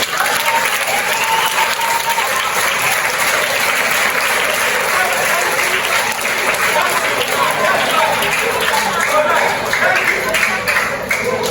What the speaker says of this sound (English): can you give mommy a big round of applause?